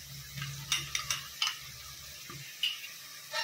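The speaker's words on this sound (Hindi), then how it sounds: "इसे अच्छे से भुनेंगे 5 to 10 मिनट। अच्छे से मिक्स करेंगे।" Haleem masala of turmeric, chilli, salt and ginger-garlic paste being fried and stirred in a pan: soft sizzling under a handful of sharp scraping stir strokes, close and fairly quiet, no talking.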